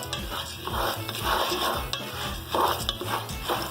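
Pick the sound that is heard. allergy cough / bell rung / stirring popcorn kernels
stirring popcorn kernels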